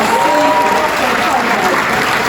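Steady, dense applause from a carnival evening audience for the youth prince at a Limburg 'Bontje Aovendj' show, loud and continuous with a faint voice or tone threading through.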